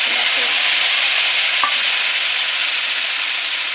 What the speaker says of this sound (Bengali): তো দেখো আমার পেঁয়াজটা একটু ভাজা ভাজা হয়ে এসছে।